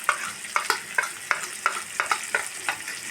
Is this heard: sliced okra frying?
yes